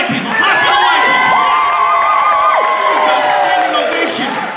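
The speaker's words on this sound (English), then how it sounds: "Black people, clap for the white people." A comedy showcase crowd at a college entertainment event cheers, whoops and claps loudly and steadily, with shouted voices rising over the sustained roar throughout.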